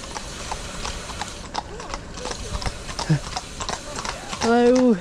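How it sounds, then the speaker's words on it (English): Horses' hooves clip-clopping steadily on a country road near East Rounton, fairly close, with a brief whinny near the end and people talking over it. "Oh, horses."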